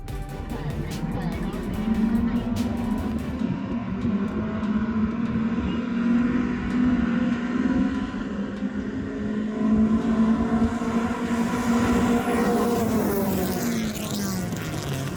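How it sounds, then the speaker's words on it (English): Wheel-to-wheel race cars roar past at a Winnipeg Sports Car Club event in a steady, loud engine drone with shifting pitch, while a person talks over the noise. "The wheel-to-wheel cars may not be as fast as the time attack cars, but boy, are they fun to watch."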